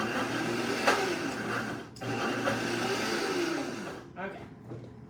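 Blender whirring through chickpeas for cookie dough, a steady loud motor hum with a brief dip and restart, close by.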